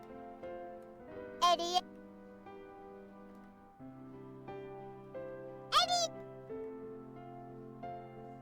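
Two short rising cat meows, a few seconds apart, play in the video game Rhapsody: Marl Kingdom Chronicles over soft, sustained game music.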